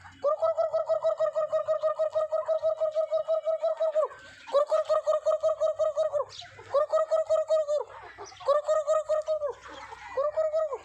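Roosters crow loudly and repeatedly nearby in long harmonic bursts, several overlapping at times, with a faint background hum.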